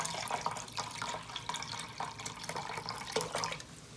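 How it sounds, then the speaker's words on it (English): Organic beef broth is poured into a pot, a soft, steady liquid splash and trickle heard up close and quietly, with no talking. "And 1 cup of beef broth. Put that in there, that's some organic beef broth."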